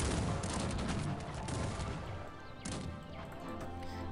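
Musket volleys crackle in a dense, continuous roll of overlapping shots from massed musketeer troops in the strategy game Cossacks 3, with sharp louder bursts standing out and no talking.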